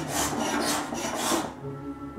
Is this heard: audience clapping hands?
no